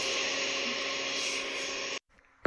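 Blender crushing ice with cola from the Dollar Tree for a frozen cola drink, a loud whirring grind held steadily for about two seconds before cutting off abruptly, then a faint clink.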